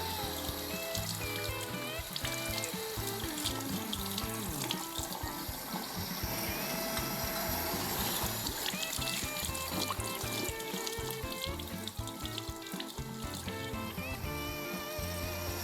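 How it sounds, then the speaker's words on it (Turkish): Shaving equipment is rinsed under a running tap, giving a steady, continuous splash and pour of water close by that holds level throughout with no talk. "Öncelikle akan suyun altında güzelce duruluyoruz."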